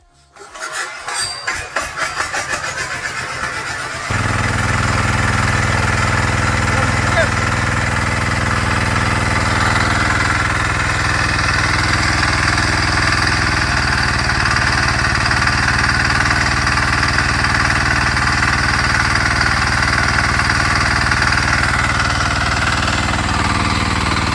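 A 178F diesel engine on a Kentavr walk-behind tractor starts with a few rapid knocking chugs, then settles into a loud, steady, continuous running drone that holds close and unbroken, with no talking.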